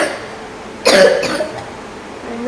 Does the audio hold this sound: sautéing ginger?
no